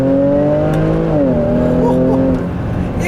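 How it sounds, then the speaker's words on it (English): A 2017 Jaguar F-Pace 35t R-Sport SUV engine accelerates hard, its loud, rising tone shifting as it climbs through a gear change, close and continuous with road noise beneath. "Go for another acceleration here."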